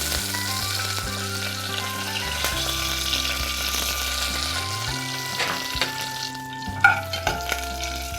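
Slit green chilies frying in hot oil in a pan, a steady close sizzle with scattered pops and crackles, while faint tones hum underneath throughout.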